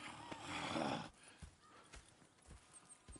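Horses in Red Dead Redemption 2 shuffle and stamp, with a brief whinnying snort up front followed by a few scattered hoof thuds, soft and fairly close, no speech.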